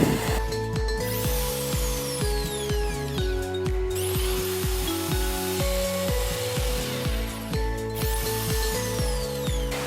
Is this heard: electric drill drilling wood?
yes